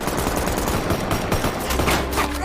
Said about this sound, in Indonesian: terjadilah baku tembak antar mereka